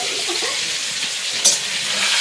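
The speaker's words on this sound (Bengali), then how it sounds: "মাছটা কি সুন্দর ভাজছে" Fish frying in a pan gives a steady, close sizzle with a sharp crackle partway through and no voices.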